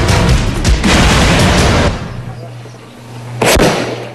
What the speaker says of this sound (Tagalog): Umalingaw-ngaw mga putok sa Camp Dangwal at Trinidad Benguet matapos sabay-sabay sinunog ng otoridad ang mga nakumpiskang iligal na paputok